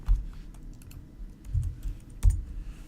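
A few keystrokes on a computer keyboard, soft clicky taps in small clusters, close and quiet with no voice.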